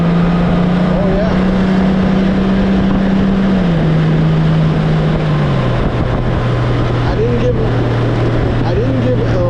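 A Honda Goldwing GL1800 with a Stage 1+ ECU flash runs in tour mode, its engine a steady, close drone whose pitch drops slightly in steps as the revs settle.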